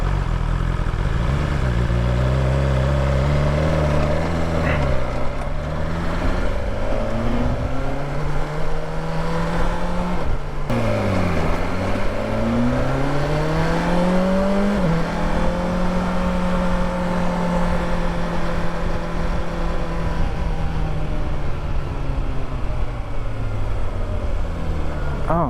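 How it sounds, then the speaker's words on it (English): A BMW S1000XR motorcycle engine drones continuously while riding, its pitch rising and falling with throttle and gear changes under steady wind roar, loud and close. "I'm glad I'm riding this to give me, you know, I haven't ridden the XR since Bruce first got this."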